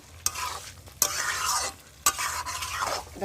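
Chicken frying in a pan for a spiced kosha curry, with three sharp metallic clanks of a spatula and sweeping stirs over a strong, close sizzle that swells and fades between strokes.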